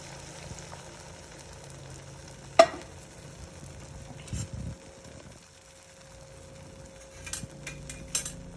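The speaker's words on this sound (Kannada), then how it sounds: "ನೋಡಿ ಈಗ ಮೊಟ್ಟೆ ಬೀಟ್ ಮಾಡ್ಕೊಂಡಿರೋದು ಹಾಕ್ತಾ ಇದ್ದೀನಿ ನಾನು." Beaten eggs with onions fry in a pan, a soft steady sizzle under intermittent scraping stirs and a sharp utensil clink, fairly quiet and close.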